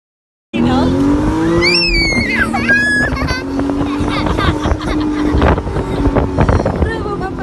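A Mercedes-AMG C63 S engine starts up abruptly and runs loud and close, with a deep burbling idle and sharp throttle blips that rise and fall in the first few seconds before settling into a steady, rumbling growl.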